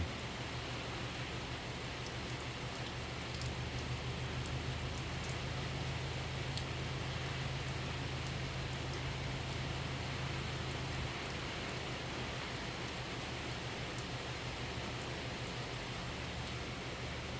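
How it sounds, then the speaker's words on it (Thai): Steady, even rain falls as a constant hiss of drops on surfaces, with a faint low hum underneath and no voices. "ฝนตกแต่เช้าเลย"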